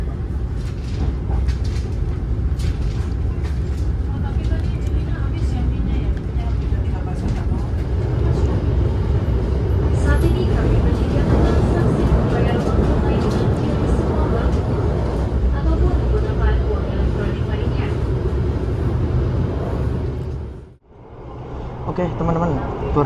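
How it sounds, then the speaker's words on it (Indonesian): Tawang Jaya passenger train rolling into platform 1 at Pekalongan station, a loud sustained low rumble of wheels and carriages lasting many seconds, ending in a sudden brief dropout. "di jalur 1 kayaknya akan masuk kereta api Tawang Jaya ya"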